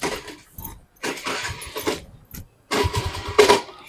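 An old scooter engine cranks and fails to catch, with short uneven bursts of starter effort separated by brief pauses at close range.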